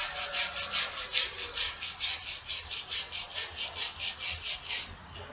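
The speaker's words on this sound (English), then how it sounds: "you have to sand this. You get all the rust off." Rust being sanded off a steel axe head, a steady rhythmic back-and-forth scrubbing of abrasive on metal, about three strokes per second, close and even, with no talking.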